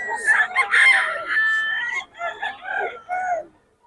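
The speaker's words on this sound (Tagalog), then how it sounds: "ang lalaki ng manok ni Boss Batang" A large rooster at a poultry market in Bocaue lets out a loud, drawn-out crow nearby, followed by a shorter wavering call before falling silent.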